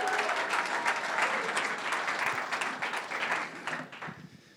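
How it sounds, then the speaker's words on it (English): An audience at a startup community evening bursts into applause, a dense sustained clatter of many hands that holds steady and then fades out over a few seconds. "So give Jake with Digital Crafts a big round of applause."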